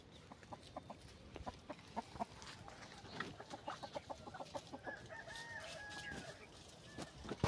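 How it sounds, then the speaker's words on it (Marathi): Hens grazing through grass in a rural field cluck in short, scattered bursts, faint and at varying distances, with a drawn-out crow-like call partway through. "अशा कोंबड्या चरत आहेत बघा रानाकडं."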